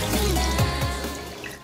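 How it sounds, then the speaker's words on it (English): Shaoxing Chinese cooking wine pours into a pot of broth ingredients with rock sugar, a steady close liquid stream lasting under two seconds, alone with no talk. "Then pour 2 cups of shaoxing wine"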